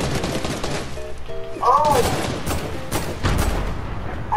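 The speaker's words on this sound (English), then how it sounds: "Someone's shooting from there." Gunfire in the Fortnite video game: several quick bursts of shots, some near and some farther off, heard under the players' voices.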